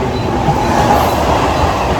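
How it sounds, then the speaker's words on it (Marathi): A train pulls out of a station at Jogeshwari: a steady, loud rolling rumble of wheels and carriages that runs unbroken throughout, with no voices. "माझी ट्रेन गेली"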